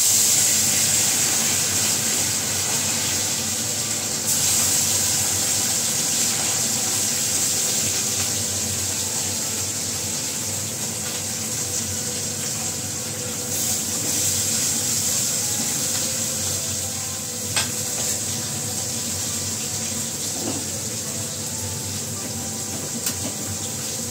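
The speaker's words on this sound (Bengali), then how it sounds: "আর এখানে হচ্ছে মাছ ভাজা" Fish frying in oil in a pan gives a steady, loud, continuous sizzle and hiss that runs unbroken for over twenty seconds, close by, with no one talking.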